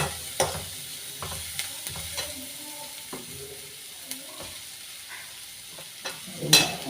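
Sliced onions sauté in a pan for a mushroom curry, with a soft steady sizzle and repeated sharp clinks and scrapes of a spoon stirring, fairly close and with no talking.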